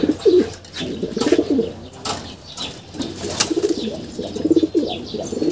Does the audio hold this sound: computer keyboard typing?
no